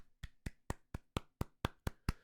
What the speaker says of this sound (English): That means that's like a pity clap.